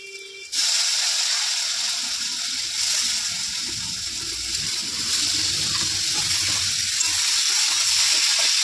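Flat beans drop into hot oil with fried spices, salt and turmeric, setting off an abrupt, loud, steady sizzle and hiss that carries on unbroken with no talking.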